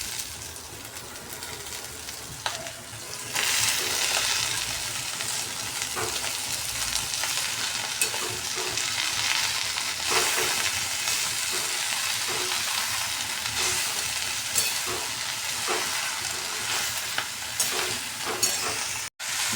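Fenugreek leaves (methi) fry in a hot pan with turmeric, a loud continuous sizzle broken by repeated scraping and clattering stirs, close up, running for about twenty seconds with no talk.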